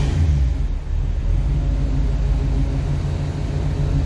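A 1966 Pontiac Catalina wagon engine holds a steady, slightly elevated idle after a throttle snap, a continuous low rumble sitting close and even with no voices over it.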